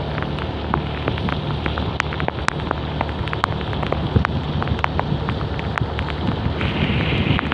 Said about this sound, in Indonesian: hujannya lebat sekali ya kan